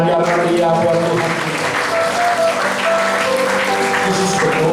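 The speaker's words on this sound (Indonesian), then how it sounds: "Berikan tepuk tangan yang meriah buat Tuhan." A church congregation at a worship service applauds loudly and close, sustained clapping blending with music tones and some voices throughout.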